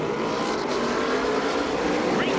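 ARCA Menards Series race cars roar at the green flag at Elko Speedway, a dense, continuous loud engine drone from a pack of stock cars at full throttle.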